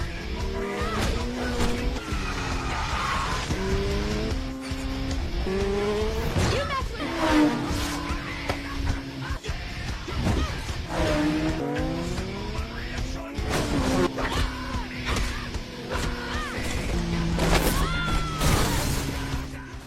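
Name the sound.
motorcycles racing in film Torque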